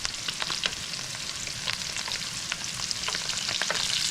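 Wild morel mushrooms sautéing in a pan, heard as a constant soft sizzle and crackle up close, with light stirring sounds running through it.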